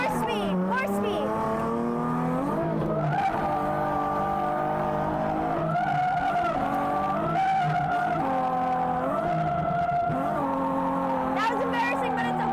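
A car drifting on a track at a pro drifting event, engine revving hard with rising and falling pitch and steady tire squeal as it slides and spins out, loud and close throughout, with a voice talking over it.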